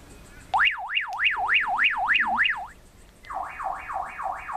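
A loud electronic alarm tone from a Baofeng UV-5R two-way radio warbles quickly up and down several times, cuts out, then returns fainter and more distant.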